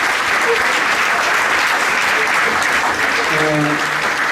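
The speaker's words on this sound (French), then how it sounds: "Un grand merci à nos intervenants, je vous demande d'applaudir bien fort." Conference audience gives loud, sustained applause after a debate, a dense even clapping from a large crowd throughout, with a faint voice rising briefly near the end.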